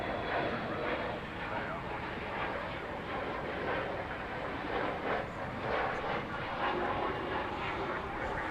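A United Express regional airliner operated by Mesa Airlines passes at night at DFW Airport, heard as a faint, distant engine rumble and rushing hum that stays low and steady, with talk occurring over it.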